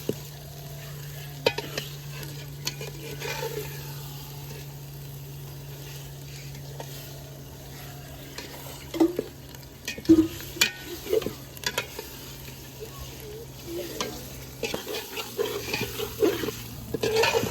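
Chicken pieces stir-fried with spices in a pan for biryani: continuous low sizzling with repeated spoon scrapes and clatters against the pan, growing busier toward the end, close up with no voices.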